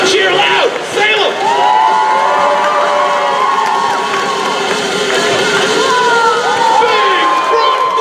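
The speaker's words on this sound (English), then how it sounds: "Come on, cheer loud." Loud crowd cheering and shouting at a pogo stunt show finale at the Salem, Virginia fair, a dense sustained roar of voices with whoops rising above it throughout.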